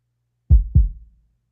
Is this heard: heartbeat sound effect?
yes